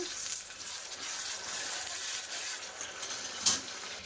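Tomato paste fries with ginger garlic paste in a pan for a prawn and egg curry, a steady close sizzle with one brief clink of a utensil, no talk over it.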